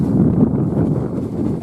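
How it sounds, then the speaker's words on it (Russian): Strong wind on an outdoor riverside walk with a husky, a steady broad low rumble buffeting the microphone throughout with no pauses. "Это постоянно, как не выходим, то очень сильный ветер."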